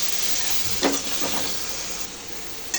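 Radish pieces being sautéed in spice paste in a pan for a small-fish curry with beans and potato, a low steady sizzle with a couple of stirring scrapes near the middle.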